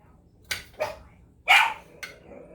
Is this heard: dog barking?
yes